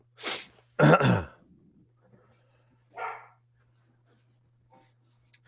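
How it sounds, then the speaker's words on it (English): A dog gives two or three short, sharp barks close by, then a single softer bark after a pause, with near silence and a faint steady hum between them. "It's my dog."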